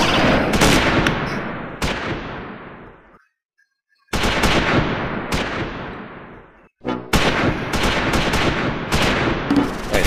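Suppressing gunfire in Close Combat 5, a Battle of the Bulge World War II battle, with long loud volleys of automatic weapons and heavy shots broken by two brief lulls before firing resumes.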